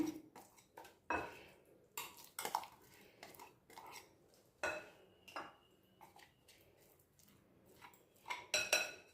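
Irregular scraping and clinking of a utensil against a bowl as eggless semolina chocolate brownie batter is stirred, with soft knocks at uneven intervals, close by.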